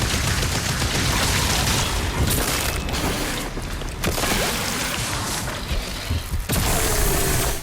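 Cycler weapon blasts in DOOM: The Dark Ages, a dense, continuous barrage of loud explosions and gunfire with repeated booms and no pauses.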